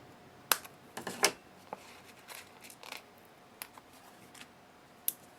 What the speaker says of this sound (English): So let me just grab my scissors, and we're going to take a little piece from the side.